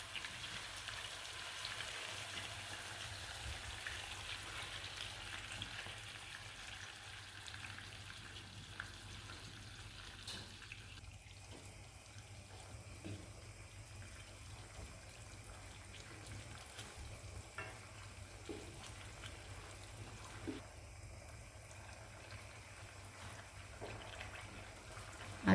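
Tomato tipped into a pan of chicken and peppers, giving a steady, moderate sizzle and crackle of frying that runs unbroken with no talking.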